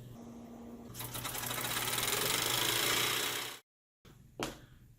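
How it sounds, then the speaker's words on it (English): A small model steam engine running with a rapid, even mechanical chatter that starts abruptly, holds steady for a few seconds, then cuts to silence before a brief sharp knock. "This model steam engine."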